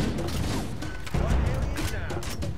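Explosions and gunfire in the video game Halo: Combat Evolved Anniversary, a dense, loud battle wash with repeated booms and crackling shots, a heavier blast about midway.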